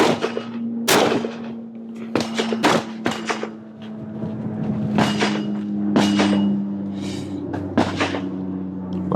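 Several sharp gunshots ring out loud and close during an outdoor chronograph field test, spaced a second or two apart, each with a brief echoing tail over a steady low hum.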